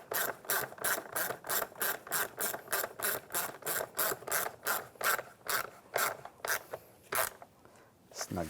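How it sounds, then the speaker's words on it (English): A worm clamp is cranked tight during a starter replacement on a 2004-2010 BMW X3, producing about twenty rapid, evenly spaced rasping ratchet strokes close by, slowing slightly toward the end. "tighten down the worm clamp"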